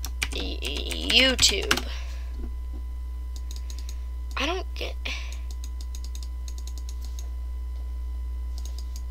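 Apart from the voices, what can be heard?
typing on a computer keyboard into a search bar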